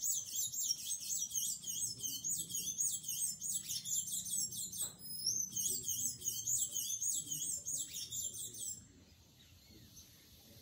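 Many birds chirp and tweet outdoors at close range, a dense, steady chorus of high calls that drops away to quiet in the last couple of seconds.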